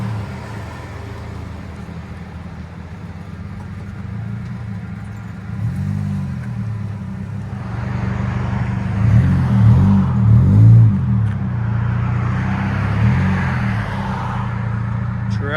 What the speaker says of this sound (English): Nissan Versa with a vibrant resonator